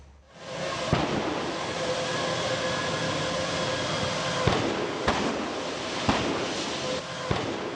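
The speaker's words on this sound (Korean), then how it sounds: "공장에 쌓여있던 폐가스통이 계속 터지고 인근 야산에도 불이 옮겨 붙었습니다" Waste LP gas canisters exploding in a chain during a fire at a gas cylinder disposal plant, heard as sharp distant bangs at irregular intervals over a continuous roaring rumble of the blaze.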